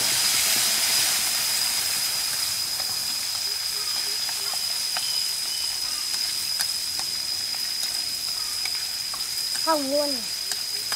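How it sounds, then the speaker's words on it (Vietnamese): Stink bugs fry in hot oil until crisp, a dense, even sizzle and hiss that goes on throughout, while a voice speaks a few words near the end. "Mình chiên cho nó giòn lên xong rồi sẽ cho gia vị sau."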